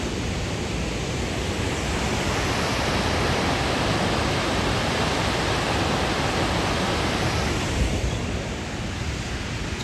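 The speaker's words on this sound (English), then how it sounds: "First waterfall I visited on this trip that actually had a lot of water flowing over it." A 280-foot waterfall in Tennessee with heavy flow pours in a loud, unbroken roar of rushing water, dense and constant from start to finish with no voices.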